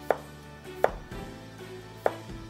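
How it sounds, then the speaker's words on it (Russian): Three sharp knife strokes slicing a cucumber into thin slices hit a cutting board at uneven intervals, close and crisp, with quiet room tone between. "Огурец нарезаем тонкими пластинками."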